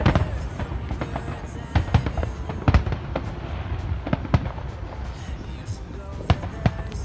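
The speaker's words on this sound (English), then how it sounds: "talked about photography and watched the fireworks" Fireworks over a campground at Mount Seaview, with irregular sharp bangs and crackles, some louder bursts, over a constant rumbling background of distant explosions.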